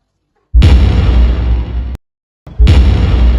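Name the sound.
dynamite explosion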